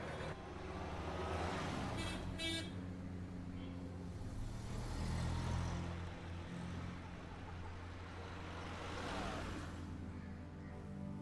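Car driving with a brief horn honk early on, heard over a steady, low road and engine rumble that continues unbroken throughout.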